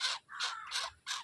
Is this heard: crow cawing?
yes